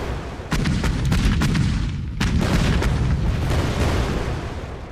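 Artillery and gunfire in KARDS, a WWII card game. Loud, heavy booms and sharp blasts strike repeatedly over a thick rumbling battle backdrop, with a sudden strong onset and a second cluster of hits midway.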